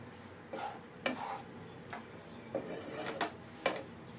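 Grated coconut roasting in a spoonful of ghee in a pan over a low flame gives soft scraping stirs and faint sizzle, with about six brief spatula scrapes spread across a quiet background.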